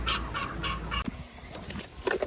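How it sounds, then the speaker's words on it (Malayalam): A big hen gives a quick series of sharp clucks, then a pause with soft shuffling before another burst of clucking near the end, close and fairly loud. "അതിന്റെ വലിപ്പല്ലേ വലിയ കോഴിയാ."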